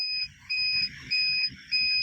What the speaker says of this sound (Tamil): இப்போ நீங்கள் இன்குபேட்டர் ஆன் பண்ணோடனே ஒரு அலாரம் சத்தம் கேட்குதா?